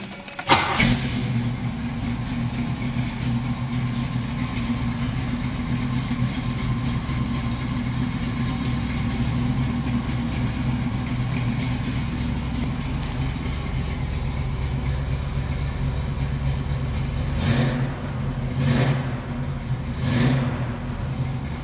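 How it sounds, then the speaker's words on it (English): A deep, rumbling 396 V8 in a 1969 Camaro SS with a four-speed idles steadily for a long stretch, then blips its throttle a few times near the end, each rev rising sharply before settling back. "This engine is really nice and healthy and happy in this car."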